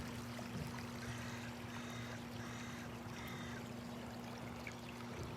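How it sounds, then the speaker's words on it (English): Water pouring out and gurgling through pipes as pumps drain an archaeological excavation site; a steady, continuous rushing wash with faint trickling detail and a low constant hum, heard alone without talk. "Here there's water pouring out, in case you were curious, with the gurgling in the pipe as the pumps cleared the water from the archaeological site."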